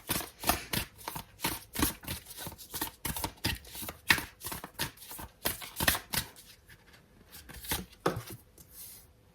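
Tarot cards being shuffled and drawn for a reading, heard as a close series of crisp riffling and slapping card sounds in uneven bursts that thin out toward the end, with no talking.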